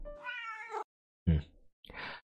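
A cat in a video game gives two short meows. They are close and fairly clear, with brief silences between them, followed by a breathy hiss-like sound.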